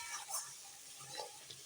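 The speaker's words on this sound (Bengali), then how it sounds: "দেখো মশলাটা কি সুন্দর কষানো হচ্ছে।" Spice paste frying in oil for a rohu fish curry makes a quiet, soft sizzle, with a few light stirring scrapes now and then.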